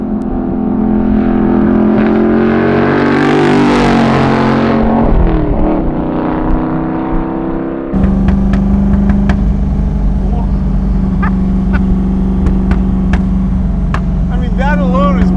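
A 1965 Shelby Cobra F.I.A. replica's engine revs hard, rising to a loud roar and dropping back, then settles into a throaty idle with occasional blips, with people talking over it.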